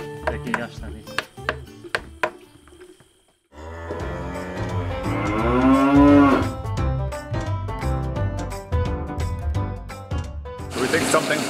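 Cows lowing on a farm at dawn, several long drawn-out moos close by, one swelling loudly in the middle, amid clattering and scraping barn noises and people talking.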